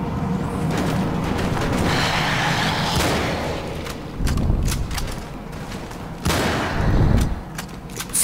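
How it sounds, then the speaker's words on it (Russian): Rapid gunfire in the shooter video game Anabiosis: Dream of Reason, several sharp shots in quick clusters over a constant game background, with no talk. "Смотри, 3 выстрела в голову"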